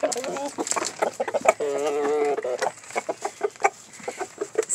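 Roosters cluck and call close by in a yard, a steady run of short clucks with one longer drawn-out crow-like call in the middle, while a person talks softly over them.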